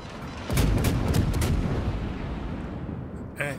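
The Smolensk, a Soviet tier-10 premium cruiser in World of Warships, fires a rapid salvo of several sharp booming gunshots that ring out into a long decaying rumble, with a brief faint noise at the end.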